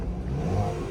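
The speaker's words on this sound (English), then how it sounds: "You can hear that little turbo." A Chevrolet Camaro with a small turbo revs briefly, a steady mid-pitched engine roar with a faint turbo whir, close and continuous for under a second.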